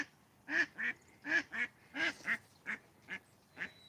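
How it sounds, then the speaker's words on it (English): Ducks on a pond trade a run of about ten quacks in an uneven back-and-forth rhythm, close and clear against a quiet background. "Having a duck conversation."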